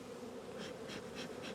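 Honey bees buzzing around a hive during an early-season hive check, a dense continuous hum with a few louder passes of individual bees close by, no talking.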